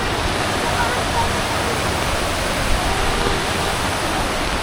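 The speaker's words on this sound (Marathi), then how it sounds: "हे बघा समोर, ही आपली नदी" The Tungareshwar river rushes steadily during rain, a continuous broad roar of flowing water heard up close, with a person talking over it.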